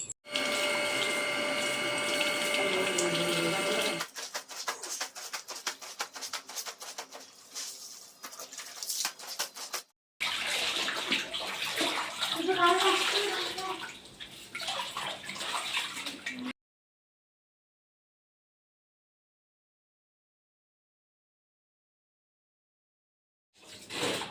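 Clothes being scrubbed with soap and washed by hand in a bucket of water, giving steady splashing and sloshing for about sixteen seconds with brief breaks, then silence until a short burst at the very end.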